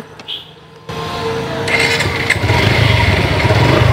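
A motorcycle engine starts up after a moment of quiet and settles into a steady, loud idle, close by.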